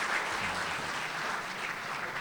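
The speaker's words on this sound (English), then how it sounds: "let's applaud everyone who made this event a success and a stepping stone to greater achievement" An audience at an event closing ceremony breaks into sustained, even applause, many hands clapping together in a hall with no voices over it.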